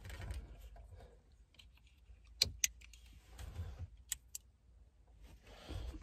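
Renault Clio hazard light switch pressed a few times, sharp quiet clicks standing out against a low background rumble, close and brief.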